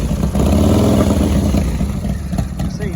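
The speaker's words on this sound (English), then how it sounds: "Classic Harley noise." A Harley-Davidson FXLR motorcycle with an S&S 96 cubic inch motor running close by, a loud, throaty, loping idle with uneven pulses that swell slightly, engine still cold.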